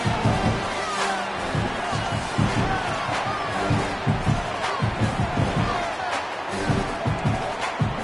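A home crowd at an Oakland versus Duke college football game cheers before kickoff, a continuous roar broken by thumping bursts, with a commentator talking over it.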